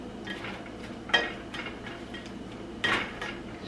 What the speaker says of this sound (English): I'm gonna hop over and give this a stir while that's cooking